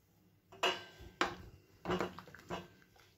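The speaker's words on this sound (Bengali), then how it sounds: "চালটা দিয়ে কিন্তু সঙ্গে সঙ্গেই খুব ভালো করে নাড়াতে হবে" Raw rice is stirred into a pot of simmering milk for payesh made with new jaggery, giving a few close scraping, clinking strokes of a spoon against the pot, with quiet gaps between them.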